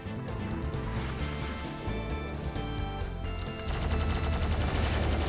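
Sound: plasma gun firing in video game Doom II

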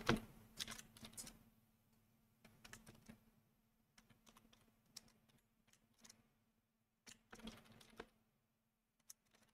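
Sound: typing a command on a computer keyboard

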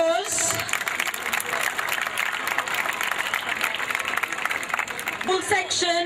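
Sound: crowd applause at school sports prize giving

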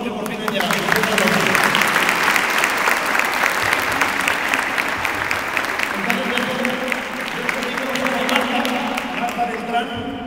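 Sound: applause

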